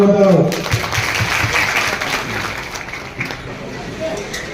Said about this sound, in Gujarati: આપણા સમાજ સેવક છે, તાળીઓ બતાવો.